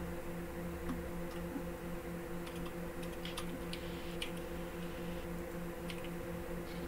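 Typing on a computer keyboard while entering label text, steady close key clicks over a constant low electrical hum.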